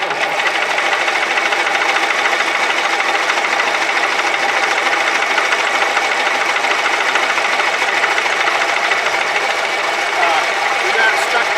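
Allis Chalmers bulldozer left sitting twenty years, with a stuck generator, being started: a loud, dense, continuous mechanical clatter and rattle, steady throughout, with voices mixed in.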